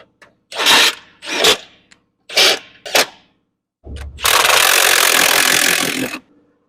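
A wrench at work during a water pump replacement on a Chevy Cruze: a few short, sharp clicking bursts, then a loud, sustained rough mechanical rasp lasting about two seconds, close up.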